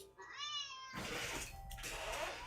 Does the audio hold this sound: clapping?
no